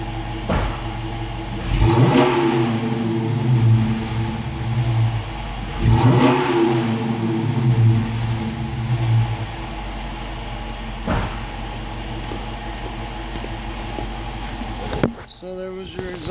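A 2015 Dodge Challenger R/T with a HEMI V8 and aftermarket exhaust revs close by, giving two strong throttle blips that each surge and then fall back to a rumbling idle. The engine keeps idling until the sound cuts off abruptly near the end.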